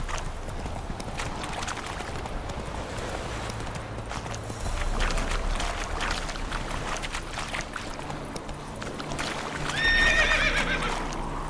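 Roach the horse trots in The Witcher 3, steady clip-clop hoofbeats running throughout with a neigh near the end, set against ambient game background.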